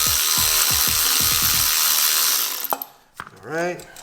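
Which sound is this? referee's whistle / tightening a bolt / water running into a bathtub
tightening a bolt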